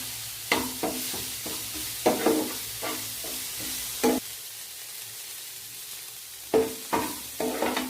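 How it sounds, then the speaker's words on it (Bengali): Mashed shrimp with salt and turmeric frying in a pan, a soft steady sizzle broken by repeated scraping clacks of a spatula stirring, close and at an uneven rhythm. "এবার এটাকে ভাজা ভাজা করব।"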